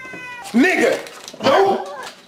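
Two loud, drawn-out cat yowls sound close up, one after the other, from a scary video, alongside voiced sounds.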